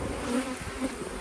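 Honey bees buzz loudly and close during a July hive inspection, a steady droning hum with slight swells in pitch over a second or so.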